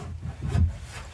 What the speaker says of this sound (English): We're scratching out my door frame.